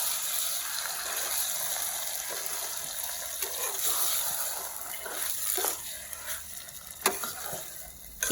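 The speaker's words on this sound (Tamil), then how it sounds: "இப்போ மசாலா நல்லா கிளறி விட்டுட்டு நம்ம தேவையான அளவு தண்ணி ஆட் பண்ணிக்கலாங்க." Brinjal gravy masala with fried eggplant is stirred in a frying pan, a steady soft sizzle with scraping and wet stirring sounds, a few sharper clinks of the spoon near the end.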